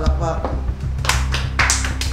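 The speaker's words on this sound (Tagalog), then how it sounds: "Palakpak." Several sharp handclaps ring out in a short, uneven burst, mixed in with nearby talking.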